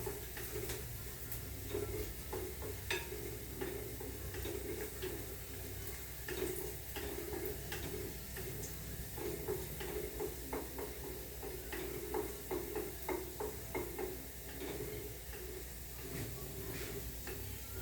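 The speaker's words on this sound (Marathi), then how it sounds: "लसूण मी परतून घेते चांगला तेलामध्ये" Garlic sautéing in hot oil in a home kitchen pan gives a steady, close sizzle and hiss, broken by frequent light scraping clicks from stirring, with no voices.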